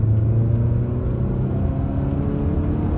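A Peugeot 206 GTi hatchback with a 135 hp engine drives along, its steady low rumble and mid-pitched engine drone continuous and close, heard from inside the car.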